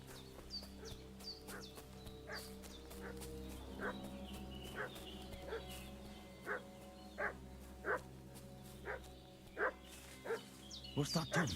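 In the video game Kingdom Come Deliverance 2, a dog barks repeatedly at steady, evenly spaced intervals from a short distance, over outdoor village ambience with birds chirping and faint fowl sounds, the barks growing louder and quicker toward the end.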